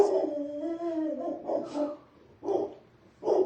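A dog makes a drawn-out, whining howl followed by a few short, breathy whimpers and vocal bursts, close by and fairly loud.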